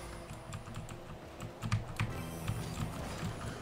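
Keys clatter on a computer keyboard during a Rocket League match, a steady run of quick, close clicks with a few heavier presses, alone without talk.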